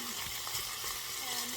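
Beef sizzling in a hot pan, a faint, steady hiss of frying with a little stirring.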